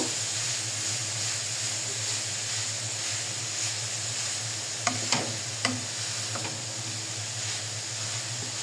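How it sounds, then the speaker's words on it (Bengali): Grated coconut stirred and lightly fried in ghee in a pan for coconut laddoos, a steady soft sizzling hiss throughout with a few faint clicks of a spoon against the pan. "নারকেলগুলো দিয়ে দিয়েছি সুন্দর করে নেড়ে হালকা করে ভেজে নিব"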